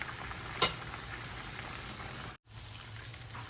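Turkey meatballs frying in a pan, a steady close sizzle and crackle of oil that runs without a break apart from a short cut near the end.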